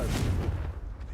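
Confringo blasting spell cast in Hogwarts Legacy, a quick fiery burst with a short booming crack that fades within a second, fairly quiet and alone.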